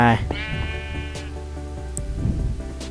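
Sheep bleating in the mobile edition of Minecraft, a loud, wavering bleat at the start trailing into softer tones, with rain and game sounds behind and someone talking over the game.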